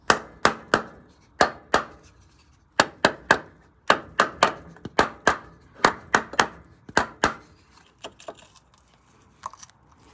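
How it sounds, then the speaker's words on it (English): Sharp metallic hammer taps in rapid bursts on a Mercedes R107 water pump, a steady run of strikes on a hollow metal part, close and loud, thinning into a few scattered knocks. "Let's see what happens when we tap this with a hammer."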